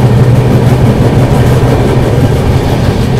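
A Chennai–Bengaluru AC double decker superfast express, hauled by a WAP-7 electric locomotive on the main line, rumbles along loud and close with a heavy low roar and faint wheel clatter, steady throughout.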